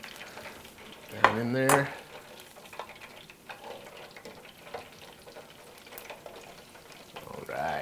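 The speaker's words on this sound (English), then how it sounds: "Now the fries go back in for their second fry." Fries drop back into hot oil for their second fry, a steady bubbling sizzle with a brief clatter as they go in, while someone speaks briefly over the frying.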